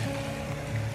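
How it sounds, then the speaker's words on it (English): A gentle brook running fuller after overnight rain, heard as a steady, close rushing and burbling of water with no break. "I was walking past this kind of gentle stream brook"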